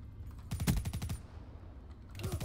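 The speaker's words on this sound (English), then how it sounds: "He shot me in the side." Rapid automatic gunfire in Call of Duty Black Ops 3 rattles out in a short burst of quick shots, falls quiet, then starts again in another brief burst at the very end.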